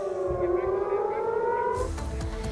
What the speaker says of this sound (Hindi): तमारा इलाके में ड्रोन आने के बाद सायरन भी बजने लगे।